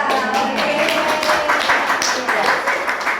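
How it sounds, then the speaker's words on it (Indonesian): Audience applause at a business seminar, steady dense clapping from a crowd filling the whole stretch at moderate loudness, with a voice speaking over it. "Tepuk tangan buat saya."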